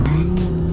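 A 1,400 horsepower Viper accelerates hard, its engine a loud, close, steady roar that holds through a brief moment without speech.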